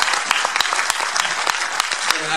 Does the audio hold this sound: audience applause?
yes